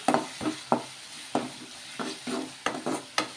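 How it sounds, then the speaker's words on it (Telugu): Turmeric is stirred into a tomato and egg mixture in a pan, with a spatula scraping in about ten distinct close strokes over a soft sizzle. "పసుపు అయితే వేద్దాము వేసుకొని కలిపేసుకుందాము"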